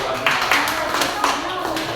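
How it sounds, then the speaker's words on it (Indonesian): Hands clapping in an elementary classroom during a teaching practice session, a few sharp claps at a steady beat under a noisy room with voices. "Tepuk tangan."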